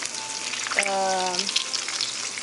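Lobster sizzling and frying in a pan with a tomato paste and coconut milk sauce for a Haitian-style dish, a steady close crackle with a brief tonal whine partway through.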